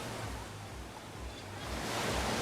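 Sea waves breaking and washing onto the beach at Skegness, a steady broadband surf roar with slow swells in loudness, heard from the shore with no talk and some wind on the microphone.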